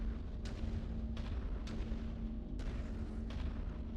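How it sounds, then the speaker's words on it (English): Missiles exploding in the MechWarrior 5 video game: about four sharp booming bursts spaced over a few seconds, riding on a constant low mechanical hum, with no speech. "Like missiles falling from stars. That was a big boom."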